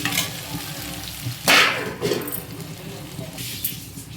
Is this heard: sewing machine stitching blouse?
no